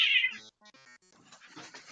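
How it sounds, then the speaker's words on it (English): A house cat gives a loud, clear meow at the start, then a few shorter, quieter mews and faint rustling follow. "which cat was that?"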